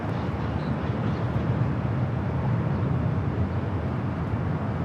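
A Southwest Airlines Boeing 737-700 arriving at LAX from Sacramento produces a steady, broad engine roar that holds at an even level without a clear rise or fall.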